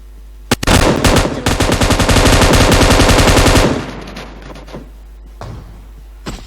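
An M249 light machine gun in the mobile game PUBG Mobile fires one long, loud, rapid burst of about three seconds, then falls quiet with a few scattered later shots.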